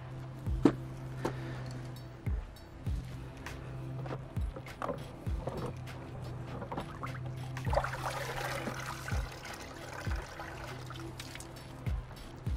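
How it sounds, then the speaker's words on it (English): A garden hose sprays water onto pool cartridge filters outdoors. It gives a low, steady hiss and trickle, broken by repeated knocks and handling thumps, and grows a little louder near the middle. "We're going to turn the garden hose on, and I'm going to show you guys how to wash them."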